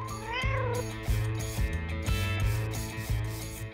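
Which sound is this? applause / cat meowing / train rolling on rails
cat meowing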